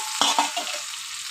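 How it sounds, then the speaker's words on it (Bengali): Fried baim fish dropped into spiced masala in a pan: a close, loud sizzle with two quick scraping stirs at the start, then the hiss settles and continues. "এবার ভাজা মাছটা আমি দিয়ে দেবো।"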